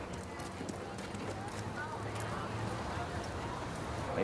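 Horse hooves clip-clopping at a riding competition, soft and fairly distant, running under ongoing speech and steady ambient noise.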